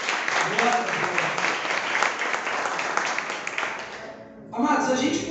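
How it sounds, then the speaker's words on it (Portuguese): A church congregation claps for the Lord in a sustained round of applause, dense and even, briefly dropping near the end before rising again as the clapping resumes. "uma linda salva de palmas ao Senhor"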